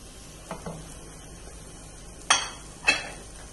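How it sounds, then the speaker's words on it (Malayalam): Chopped mango pieces are stirred into rava kesari in a pan. A few separate scraping strokes and taps of a spoon sound close against quiet background hiss, with no voices. "ഇതൊന്ന് ഇളക്കി മിക്സ് ചെയ്ത് കൊടുക്കാം."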